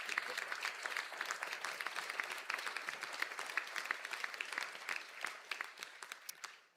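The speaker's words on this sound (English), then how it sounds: "Could have a final round of applause" At a Donegal graduation conferring ceremony, the audience gives a final round of applause. The clapping is fairly soft and distant, steady at first, then thins out and tapers off at the end.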